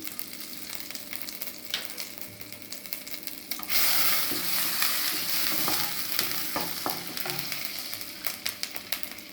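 Cumin seeds sizzling in butter in a kadai while being stirred, a steady close frying crackle with scraping and clicking utensil strokes, growing louder partway through.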